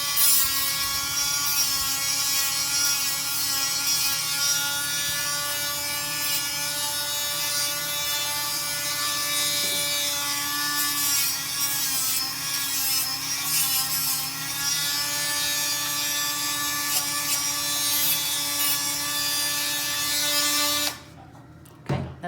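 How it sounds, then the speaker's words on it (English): A Dremel rotary tool smooths the sharp corners of plastic zip-tie ear posts, giving a steady, close, high-pitched whine with a grinding edge that runs unbroken for about twenty seconds before cutting off abruptly. "Now I take the Dremel and smooth off."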